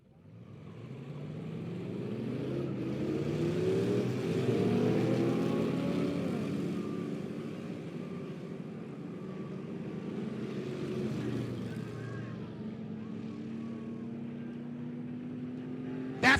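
Several B-Modified race cars roar around a dirt oval track, engines droning loudly and continuously with rising and falling pitch as they pass, recorded from the stands at Monett Motor Speedway.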